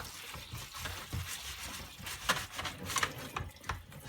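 Running water flushes lint and dust out of an AEG tumble dryer condenser while a bottle brush works through it, a quiet, uneven splashing and trickling with scattered drips, close by.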